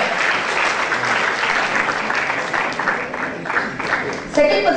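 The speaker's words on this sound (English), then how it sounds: "Students, please give them a round of applause." Sustained applause from a university awards-ceremony audience fills the room, steady throughout, with a brief louder sound near the end.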